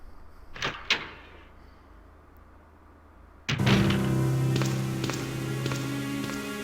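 A door opens in the survival horror game Resident Evil 2 (Biohazard 2): two sharp knocks are followed by a loud mechanical thunk and then a sustained, droning rumble that carries through to the end, with no talk.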